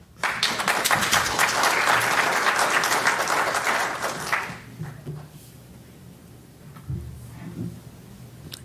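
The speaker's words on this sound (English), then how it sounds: "I'm having trouble getting the thank you in with the applause" Audience applause at a commission meeting, loud and dense for about four seconds, then thinning into scattered claps and light murmuring as it dies down.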